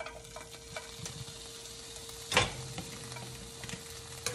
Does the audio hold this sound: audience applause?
no